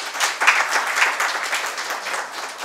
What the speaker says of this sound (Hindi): इनके लिए तालियां जरूर होनी चाहिए।